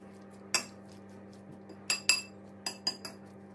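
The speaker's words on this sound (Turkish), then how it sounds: "Tekrar karıştırıyorum." A utensil stirs a black-eyed pea salad with lemon dressing and olive oil, giving about six sharp, close clinks against the dish in uneven bursts over a low steady hum.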